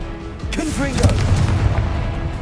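Confringo fire spell from Hogwarts Legacy, a fiery explosive blast rumbling and booming through the middle of the moment, with a voice and whooshing tones mixed in.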